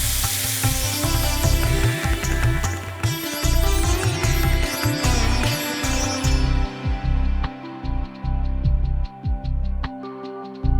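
Chicken sautéing in a hot pan for a Mexican sizzling chicken dish, giving a loud, steady sizzle and crackle with bursts of stirring clatter throughout.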